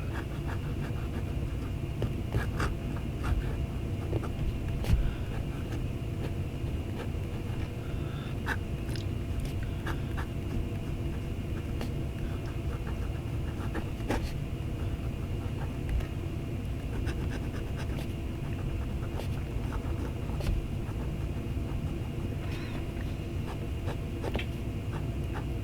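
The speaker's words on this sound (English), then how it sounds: "hearing how the nib works on the paper" A Majohn fountain pen with a No. 8 nib scratches across paper in soft, irregular strokes, close and quiet over a steady low background hum.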